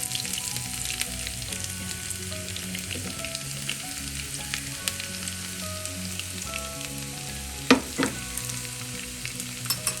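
Shallots crackle and sizzle in hot coconut oil with curry leaves, a steady close frying hiss with occasional sharper pops and brief stirring clatters.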